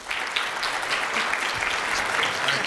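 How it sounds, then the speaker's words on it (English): A crowd at a lunch-and-learn event applauds to welcome Director Dent and Carlos Christian, with steady, dense clapping that holds at an even level from start to finish. "please welcome, by round of applause, Director Dent and Carlos Christian"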